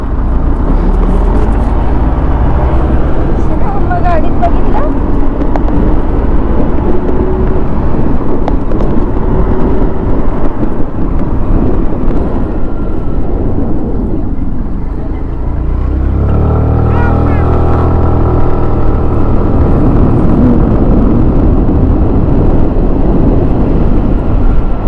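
A tempo truck engine running as it drives along, a loud continuous low rumble with shifting drone and a gear or speed change partway through, voices faintly mixed in.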